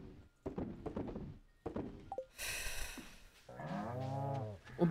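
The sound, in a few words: cows mooing in video game Stardew Valley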